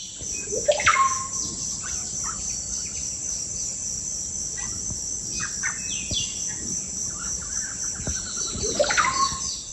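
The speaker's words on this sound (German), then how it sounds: "Man hört einfach so viele verschiedene Vögel, Zikaden." A dense tropical rainforest chorus of varied bird calls and chirps over a steady high cicada drone, with no voices.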